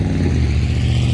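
A loud truck rumbles past close by, a steady heavy low engine roar filling the short stretch with no pause.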